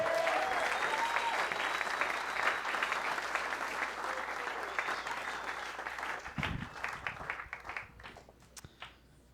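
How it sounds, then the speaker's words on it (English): A comedy club crowd applauds comedian Alex Koll at the Purple Onion, loud thick clapping that thins out and fades into scattered claps near the end. "Give a big round of applause."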